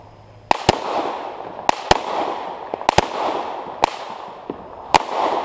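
Sharp SIG P226 MK25 pistol shots on an outdoor range firing at bowling pins, about eight loud cracks in irregular pairs and singles, each trailing a short echo, with no talk.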